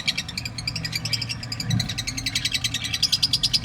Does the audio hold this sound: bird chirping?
yes